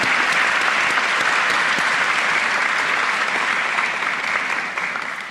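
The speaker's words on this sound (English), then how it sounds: "everyone a round of applause for everything that you have done this year" Loud, dense applause from a crowd at a 2021 high school senior commencement, a continuous wash of clapping that holds steady and begins to taper off near the end.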